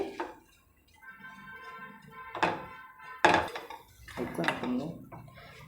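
Fried raw banana being stirred with gram flour in a pan, with several distinct scraping, clinking spoon-on-pan strokes spaced a second or so apart, close and moderately loud.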